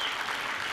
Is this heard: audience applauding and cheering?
yes